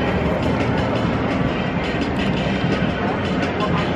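Oblivion roller coaster test train running at Alton Towers, a loud continuous rumble and rattle of the cars on the track, steady throughout and close by, with no talking over it.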